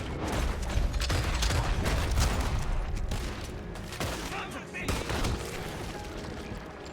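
Gunfire in a western-themed video game: dense bursts of shots and booming blasts fill the whole stretch, loud and layered, with a short lull near the end before more firing.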